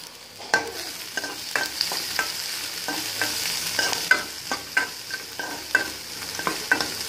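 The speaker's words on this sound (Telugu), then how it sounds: "ఇప్పుడు సన్నగా కట్ చేసినటువంటి ఉల్లిపాయ వేస్తున్నాను" Thinly sliced onion fries in oil or ghee in a pan with a soft continuous sizzle. A spatula scrapes and taps in a repeated stirring rhythm, close and clear, with no voices.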